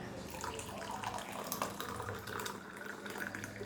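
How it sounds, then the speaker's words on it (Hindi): Strained hot herbal water pours from a thermos into a glass, giving a continuous splashing, gurgling liquid flow that holds steady at moderate loudness throughout, with no voices. "उसके बाद मैं जो हूँ इसको गिलास में निकाल के आपको दिखाती हूँ।"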